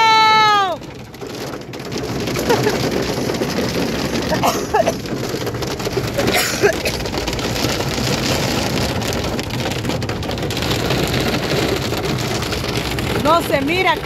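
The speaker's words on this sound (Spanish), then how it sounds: "está lloviendo con granizo." Heavy rain with hail pounds hard on surfaces in a town, a loud, continuous dense roar with scattered sharper impacts that runs through the whole stretch, and a few faint vehicle sounds can be heard underneath.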